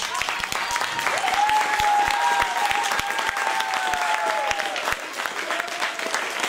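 Parents in an audience clap for a children's performance at a school event, steady applause lasting several seconds, with a voice heard faintly over it.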